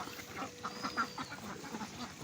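Ducks on a duck farm quack in short, soft bursts while eating layer feed at a moderate distance, several calls overlapping against a low, steady background murmur.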